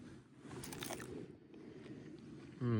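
Crunchy bread spread with butter and honey is bitten at a campsite by a mountain lake, giving a short crisp crunch followed by quiet chewing against faint outdoor ambience.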